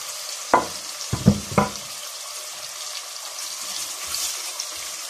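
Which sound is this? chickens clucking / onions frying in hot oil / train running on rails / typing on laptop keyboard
onions frying in hot oil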